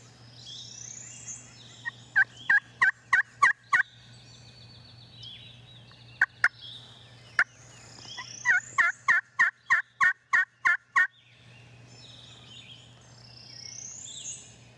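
Wild turkey gobblers gobble outdoors during a Tennessee spring season, several rapid rattling bursts in clusters at moderate distance, separated by quiet stretches over a low steady hum.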